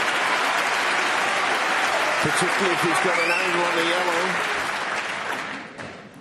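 Applause from a snooker crowd in a Masters quarter-final between Ding Junhui and Luca Brecel, a loud, steady clatter filling the room while a commentator talks over it, then tapering off near the end.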